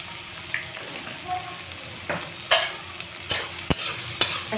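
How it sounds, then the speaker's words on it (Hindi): Turmeric powder frying in oil with leftover rice in a pan, giving a steady sizzle broken by several sharp spatula scrapes and clanks against the pan. "अच्छी तरह से हल्दी पाउडर को भी हम लोग फ्राई कर लेंगे"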